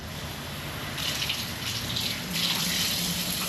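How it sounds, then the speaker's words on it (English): Peeled, deveined shrimp rinsed in a bowl under a running kitchen tap, a steady close rush of water that splashes harder and brighter in surges as the flow hits the shrimp, with no talking. "We like to rinse our shrimp."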